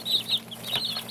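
Young meat chicks in an off-grid brooder with no electricity give a quick run of high, thin cheeps, close and clear in a brief burst.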